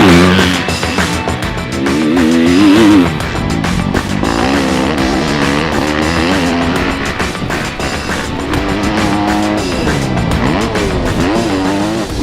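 A 2019 Yamaha YZ250F motocross bike engine revs loudly and up close, its pitch climbing and falling in repeated sharp throttle blips with a raspy, continuous drone between them.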